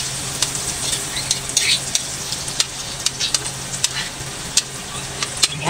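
Butter melting and gently sizzling in a pan as the base for a burger steak sauce, a steady soft frying crackle with scattered sharper pops and light stirring, close up with no talking.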